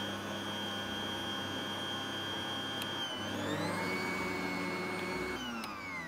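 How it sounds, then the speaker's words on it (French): Electric mixer whisking eggs and sugar for a chocolate-vanilla Yule log sponge, a loud continuous motor whine that holds steady throughout, its pitch shifting upward partway through, with no talking. "on va fouetter les œufs et le sucre jusqu'à ce qu'ils deviennent presque blancs"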